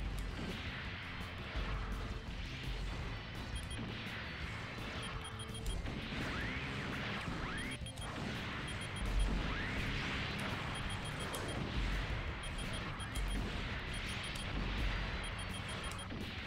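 Missiles launch and strike targets over and over in a retro Japanese Macross video game, giving a dense, steady stream of whooshing launches and booming blasts that continues without pause.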